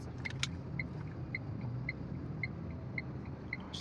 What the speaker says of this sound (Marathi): ट्रॅफिक ट्रॅफिक ट्रॅफिक पुण्यातलं ट्रॅफिक